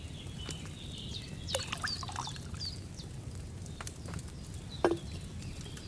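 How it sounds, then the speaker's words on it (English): Liquid base poured from a pitcher into a cauldron in the medieval game Kingdom Come: Deliverance II, a soft, brief trickling splash over quiet room ambience with faint clinks, alone without talk. "First, you have to pour the right base into the cauldron."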